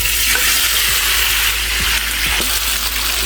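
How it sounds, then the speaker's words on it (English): Tofu fries in hot oil in a pan for a cauliflower and tofu curry, a dense continuous sizzle and crackle with faint stirring bumps, close and steady throughout. "We can mix this up and then drop it inside the oil, let this cook."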